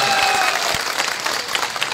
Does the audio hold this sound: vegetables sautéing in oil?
no